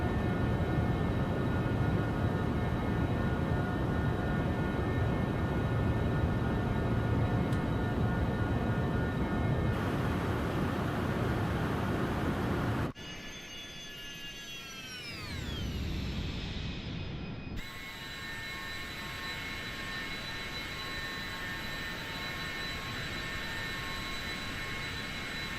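Citation Sovereign business jet engines on departure in Microsoft Flight Simulator 2024, a loud continuous roar and whine that drops away midway, shifts through a falling sweep, then settles into a steady lower drone.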